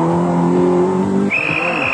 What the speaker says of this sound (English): Newlands Terry Cabey goes through in a Peugeot